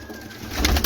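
Breeder pigeons cooing on a Lahore rooftop loft, a soft low burble rising and growing louder toward the end of the brief moment, with faint hiss in the background.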